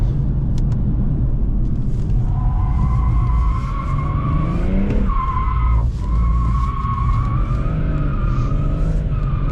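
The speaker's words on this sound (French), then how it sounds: "le véhicule qui cherche un peu la route sur les phases d'accélération en ligne droite" BMW M140i accelerating hard on a straight, its engine rising loud and steady with a brief tire squeal midway, continuous close roar without talk.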